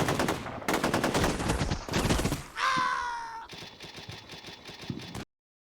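Gunfire in the Combat Mission Shock Force 2 war game as troops advance in the open toward a village: rapid loud bursts of automatic fire, a sharp whizzing crack, then steadier distant firing before an abrupt cut.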